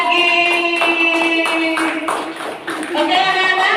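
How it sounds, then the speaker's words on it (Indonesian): Young students in a classroom clap once more for their classmates, a steady patter of hand claps under overlapping children's voices. "Luar biasa, tepuk tangan sekali lagi."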